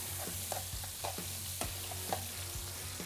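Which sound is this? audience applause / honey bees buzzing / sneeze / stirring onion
stirring onion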